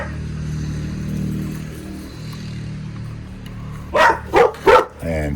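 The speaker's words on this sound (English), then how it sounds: "Prince is barking. There's somebody walking by." A dog named Prince barks three times in quick succession at someone walking past, sharp, fairly close barks after several seconds of low background hum in a workshop.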